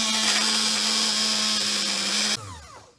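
An electric blender runs steadily at high speed, mixing sugar cookie dough, then cuts off and winds down quickly near the end, with no talking.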